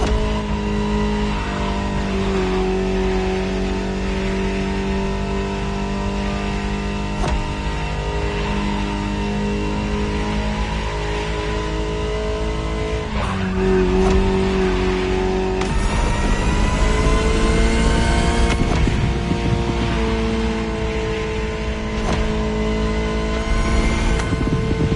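A Ferrari supercar engine in the racing game The Crew Motorfest roars loudly and continuously, its pitch rising through revs with shifts and a hard surge in the second half, no voices over it.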